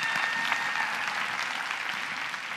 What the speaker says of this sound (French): Vous pouvez applaudir ça.